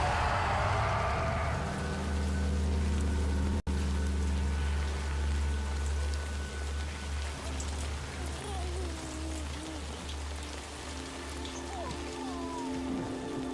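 Timefall rain in the video game Death Stranding 2, a steady wash of falling rain holding throughout, with a low droning score beneath and faint tonal game effects drifting in over it.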